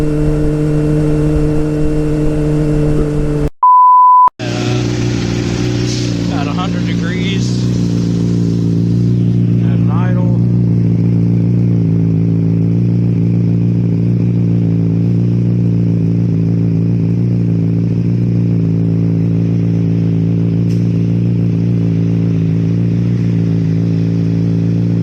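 Honda CBR motorcycle engine at about 3,000 RPM, a loud steady drone with a brief dropout near the start, then a sustained throaty roar that flutters slightly before settling into an even hum.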